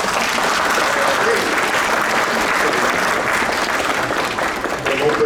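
Steady, dense applause from an audience filling an auditorium at a Japanese-Peruvian association talk, loud and sustained without a break for the whole stretch.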